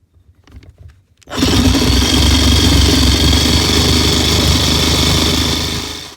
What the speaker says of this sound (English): I'm going to use that hole that I created as a starting point to run my Sawzall